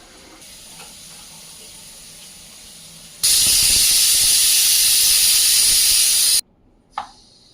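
A pressure cooker cooking mutton curry lets out a loud, steady hiss of escaping steam for about three seconds, then cuts off sharply after a low background hum.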